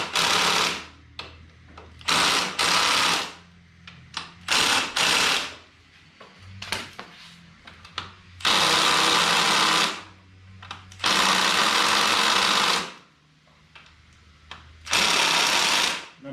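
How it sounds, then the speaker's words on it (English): An impact wrench tightens the front fork bolts on a Yamaha Vmax in repeated loud rattling bursts of a second or two, some longer, with short quiet gaps between. "I actually put these on number 2 on my impact."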